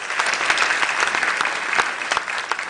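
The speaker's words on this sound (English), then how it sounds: "a resounding round of applause." A large audience at a memorial heritage launch event in Ghana claps in a sustained, resounding round, many hands producing a thick, even wash of sharp claps with scattered louder strikes.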